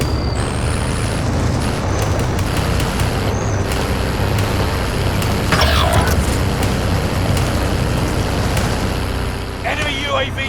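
A vehicle driven in the video game Warzone gives a loud, steady engine and road roar, with brief mechanical hisses and game sounds layered over it.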